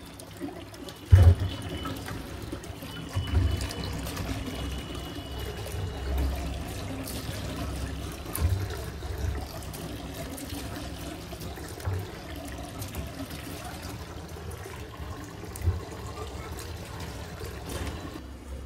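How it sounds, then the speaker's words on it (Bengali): Water runs and splashes while raw chicken is washed, a steady trickle and pour with a sharp clatter near the start and a few bumps later. "চিকেনটা ভালো করে ধুয়ে নিয়ে হয়েছে"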